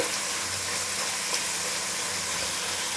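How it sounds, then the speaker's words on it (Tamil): Onions fry in a pan for a South Indian Vellore-style biryani, browning until golden and giving off a steady, even sizzle and hiss that runs unbroken and fairly close, with no voices. "இந்த வெங்காயம் பொன்னிறம் ஆகிற வரைக்கும் நம்ம இதை வறுக்கணும்"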